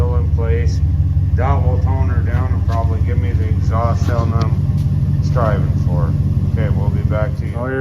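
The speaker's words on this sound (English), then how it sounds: "That will tone her down and probably give me the exhaust sound I'm striving for." A modified Hemi car exhaust runs after muffler work with a couple of clamps and a bit of steel weld, giving a steady, loud low drone throughout while someone talks over it.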